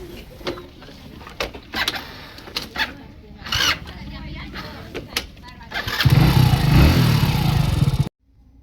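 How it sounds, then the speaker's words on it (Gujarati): A motorcycle engine starts and settles into a steady idle rumble after some shuffling, clicks, and brief talk nearby. "બાઇક ચાલુ કરીએ છીએ ને ઘેર જઈએ."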